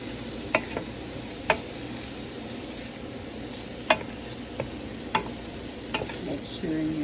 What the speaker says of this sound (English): get them nice and sauteed